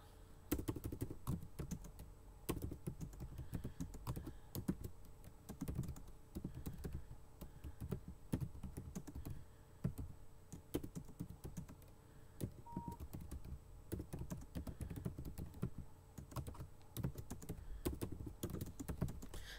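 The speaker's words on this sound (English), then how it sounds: "I'm typing that in the chat now." Steady typing on a computer keyboard, a dense run of close clicking keystrokes that continues without pause for about twenty seconds and carries no speech.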